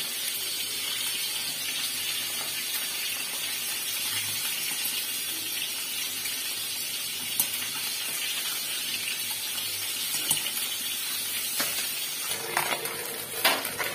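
A steady, bright sizzle of foli fish frying in hot oil runs throughout, with a few soft clinks and stirring sounds near the end.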